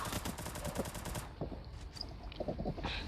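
Rapid bursts of automatic gunfire from a shooting video game, a dense rattling volley followed by scattered shots and quieter game effects.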